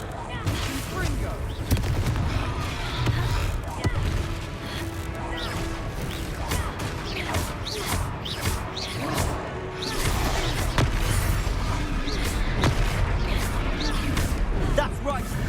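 Repeated Confringo blasting-curse explosions from the Hogwarts Legacy video game, sharp crashing bursts at irregular intervals over a steady din of game combat, with talk running underneath.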